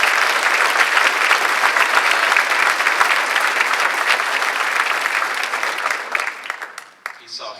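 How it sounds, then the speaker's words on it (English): An audience at a pro-life conference applauds the Knights of Columbus for donating an ultrasound machine, with sustained loud, dense clapping that thins and fades out toward the end. "clap your hands for the Knights of Columbus who donated that machine"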